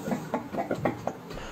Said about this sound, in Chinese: 产生这个吹室内机冷凝水吹泡泡的声音